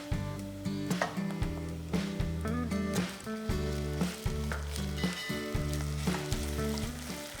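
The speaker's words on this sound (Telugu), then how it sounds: "కొంచెం కరివేపాకు, మంచిగా ఫ్రై చేసుకుందాం." Curry leaves and ginger garlic paste fry in a pan for a Telugu-style crab masala, giving a steady, close sizzle that runs throughout with occasional stirring scrapes and no talking.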